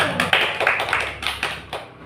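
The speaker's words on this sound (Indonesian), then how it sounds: "Kasih tepuk tangan untuk Mbak Intan dulu." A classroom claps for a student after her presentation in a micro-teaching lesson, short quick applause from a small group, close and fading out within two seconds.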